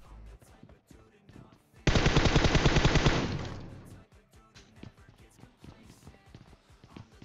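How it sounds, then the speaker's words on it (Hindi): Automatic weapon fire in the mobile battle royale game PUBG Mobile: a loud, rapid burst of shots lasting about two seconds, then tapering off into quieter in-game footsteps and movement. "अब मैं गोली चलाता हूँ"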